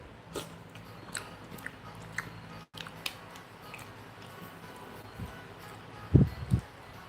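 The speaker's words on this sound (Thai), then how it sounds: "อร่อยครับผม หมูแดงหมูกรอบเลย" Someone chews crispy roast pork up close, with soft crunching bites throughout and a louder pair of crunches near the end, under no talk.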